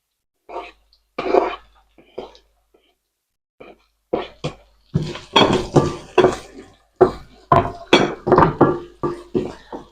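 Chopped onions go into a hot pan for lobster masala and are stirred, giving irregular scraping and clattering bursts of utensil on cookware at close range, louder and busier in the second half, with no talk.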